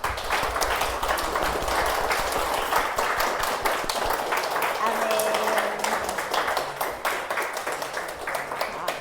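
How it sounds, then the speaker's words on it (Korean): Children in a church Sunday service clap together in a long, steady round of applause, with voices and a spoken word heard over the clapping. "내가 할 수 있는 가장 큰 최대한 큰 박수로 한번 하나님께 박수 한번 올려드릴까요"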